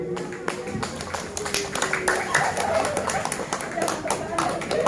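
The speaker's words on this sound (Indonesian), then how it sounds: "Tepuk tangan buat ibu-ibu." A Sundanese Islamic gathering claps for the mothers: dense, steady clapping from many hands throughout, with people talking loudly over it.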